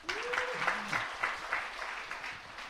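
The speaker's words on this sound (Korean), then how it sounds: "우리 박수 한번 쳐주시기 바랍니다" Applause from a church congregation, a steady wash of many hands clapping throughout, fairly near and continuous, with a brief rising tone briefly audible at the start.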